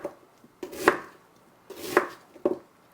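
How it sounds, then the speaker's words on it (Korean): A knife cuts radish into thick half-moon pieces on a cutting board, giving three distinct, close, sharp chops spaced about a second apart, with near silence between them. "여기를 절반으로 이렇게 썬 다음에 이렇게 썰어 주셔도 돼요"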